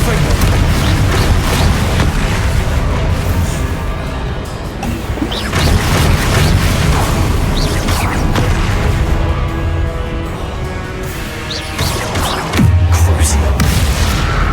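Confringo fire spells blasting in a Hogwarts Legacy duel, a dense, loud barrage of booming explosions and crashing impacts running continuously under game music, with a deeper heavy thud near the end.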